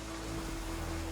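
Steady rain falls in The Witcher 3, a constant even hiss of drops with a faint low hum underneath, unbroken throughout and with no voices.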